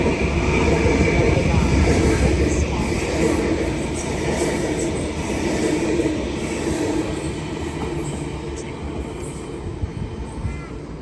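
A Sydney Trains train arrives at a platform at Central Station, rumbling steadily along the tracks, its wheels and motor making a loud, continuous roar with faint rattling throughout.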